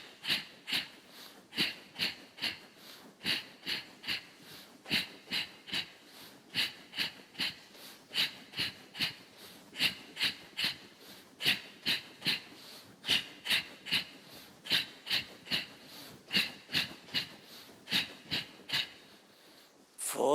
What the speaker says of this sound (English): go into Tibetan box breathing to make your residual volume 0